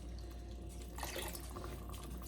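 Water is poured from a container into tomato cans in a kitchen, a gentle splashing and gurgling that swells after a second and tapers off, fairly soft and close.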